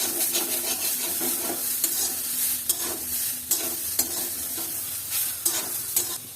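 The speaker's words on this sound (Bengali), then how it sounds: "এখন আমি আরও কিছু সময় এভাবে নাড়াচাড়া করব" Softened taro (kochu) is stirred in a frying pan, with repeated scraping strokes of the spatula against the pan over a faint, steady sizzle and no voices.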